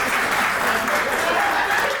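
An audience at a Hindi poetry recital claps together, a dense continuous patter of applause mixed with crowd voices.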